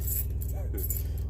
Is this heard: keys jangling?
yes